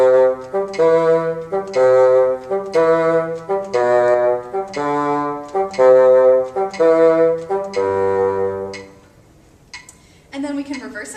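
A bassoon plays a repeated dotted eighth–sixteenth rhythm, short-long note pairs stepping through pitches in steady pulses with a metronome, ending in a brief pause before a few more notes.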